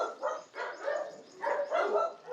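Several dogs bark in a quick, repeated series of close, moderately loud barks outdoors, with no talking over them.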